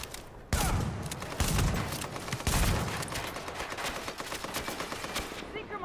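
Gunfire in Tom Clancy's The Division, with sharp loud shots opening a rapid, crackling volley that carries on steadily with close impacts, while a voice talks underneath.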